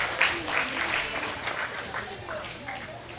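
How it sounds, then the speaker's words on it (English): A crowd at a county fair hog show applauds intermediate showmanship exhibitors. Dense, moderately loud clapping gradually tapers off, with voices mixed in. "let's give all these intermediate showmanship exhibitors a nice round of applause"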